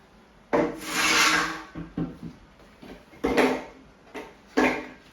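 A wooden go-kart board is flipped over, producing several loud scraping, sliding wood sounds and knocks in separate bursts, close by and without voices.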